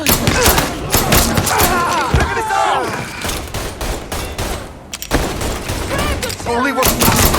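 Rapid bursts of gunfire in the crime game Mafia 3, loud and close, crackling in dense volleys with a short gap, while people shout over the shooting.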